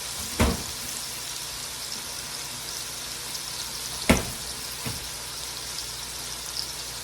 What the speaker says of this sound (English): after the leeks cook and they're cooked down